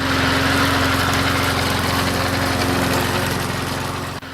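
A Toro Z-Master 4000 zero-turn mower engine runs with a steady, dense drone, close and loud throughout, easing slightly toward the end.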